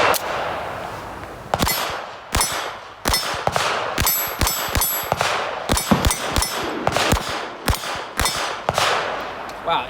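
Beretta 81 pistol fired in a long string of sharp, loud shots, some close together and some spaced out, each with a ringing clang, over about ten seconds.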